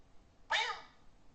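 A person's recorded imitation of a cat, played back as a sound effect in an app; a single short, strained meow-like yowl, sudden and fairly loud, alone over quiet background.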